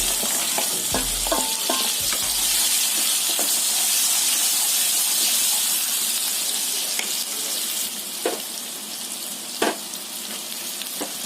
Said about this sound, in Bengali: এখন পেঁয়াজ কুচি দিয়ে দিলাম